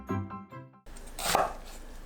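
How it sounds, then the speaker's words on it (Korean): A knife chops onion into small pieces on a board while preparing a seafood soft tofu stew, a short close scraping cut after a quiet moment, heard alone. "양파를 작은 크기로 썰어주세요."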